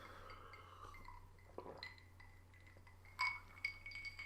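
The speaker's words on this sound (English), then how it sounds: "I'm going to have a drink a second." Glassware clinks softly as a drink is taken, with a few sharp, bright taps of glass on a hard surface near the end, heard close and alone.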